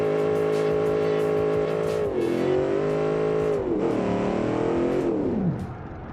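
A car engine in a drift-racing video game drones steadily and then sags in pitch, bogging down and straining under load as the revs drop toward the end.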